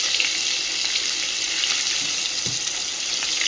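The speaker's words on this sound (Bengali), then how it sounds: "পেঁয়াজটা খুব ভালোভাবে ভেজে নেব।" Chopped onion frying in hot oil in a pan, a steady dense sizzle with faint stirring scrapes throughout, close and continuous.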